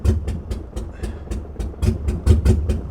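A BMW E34 535i engine cranks over with a rapid, regular rhythmic chugging from the starter, loud and close, as it struggles to catch during a crank no-start fault.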